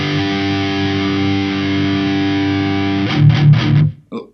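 An electric guitar through a Marshall ShredMaster distortion pedal holds a thick, buzzing sustained chord with a scooped-mid tone, then breaks into a few quick choppy strums and a final short note, loud and close.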